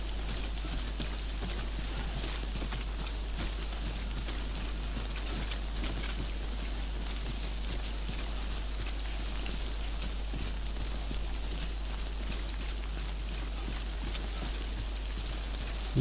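Steady rain falling across a landscape in the video game Death Stranding, a continuous even hiss of drops pattering on surfaces at constant loudness throughout, with no speech.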